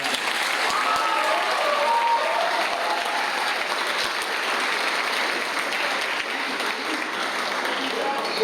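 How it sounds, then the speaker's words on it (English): A high school athletic awards audience gives the coaching staff a sustained round of applause, dense and even crowd clapping that fills the whole stretch without a break. "Let's please give this great group of coaches a round of applause."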